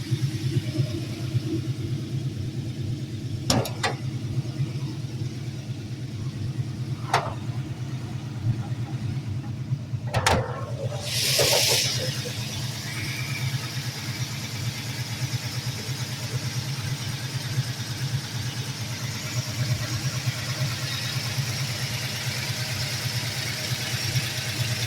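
A 1968 Plymouth Barracuda Formula S with a 340 V8 runs at a steady, low, rumbling idle throughout, with a few brief clicks and a short hiss partway through.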